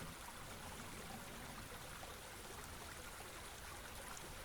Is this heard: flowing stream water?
yes